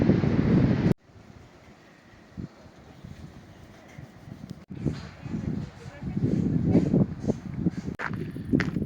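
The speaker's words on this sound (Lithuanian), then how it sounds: "Maždaug tilto viduryje, vėjas pučia labai, tai jau darosi šalta." Strong, cold wind sweeps across the middle of a bridge in the Pyrenees, buffeting the microphone with low gusty rumbles while someone talks over it.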